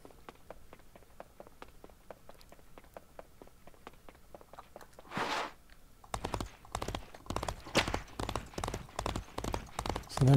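Horse hooves clip-clopping in the video game Disney Infinity 3.0, a steady rhythmic trot of sharp clacks that grows louder and denser partway through, with a brief whoosh in the middle.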